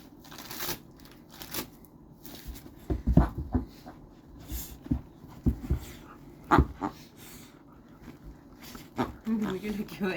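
A dog whimpers, pants and snuffles in short bursts while tearing into Christmas present wrapping, with crinkly paper rustles and a person talking to it throughout.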